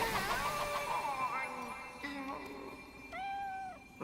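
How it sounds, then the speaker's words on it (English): A cat meows in the video game Nioh: a drawn-out, wavering meow at the start, then a second, rising meow near the end, both close and clear over faint background music. "Even cats speak in these lands."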